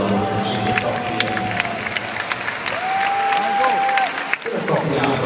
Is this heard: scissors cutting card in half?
no